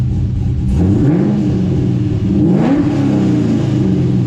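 A Corvette C6 convertible sports car exhaust gets two quick revs, each rising sharply then falling back to a deep rumbling idle, loud and close.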